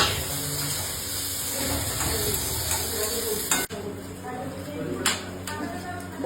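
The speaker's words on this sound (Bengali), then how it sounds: "তো রান্না করছি এবং পনিরটাকে ভাজতে।" Paneer frying in a pan while oats and dal are cooked at home, giving a steady sizzle with stirring noises. A brief clunk occurs partway through, then the frying continues at a softer level.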